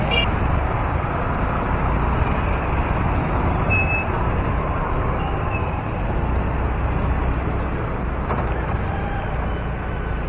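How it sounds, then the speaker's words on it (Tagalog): Busy road traffic in the Philippines, a loud continuous roar of passing cars and heavy vehicles close by, with a brief faint tone partway through. "Ang traffic."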